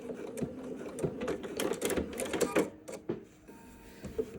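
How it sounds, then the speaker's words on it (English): A home sewing machine backstitching a dart in a garment back, with bursts of fast rhythmic stitching that pause and restart, close and fairly quiet. "I'm going to raise my presser foot, flip the work around, sew back, but into the bulk of the dart for a little bit, then back stitch"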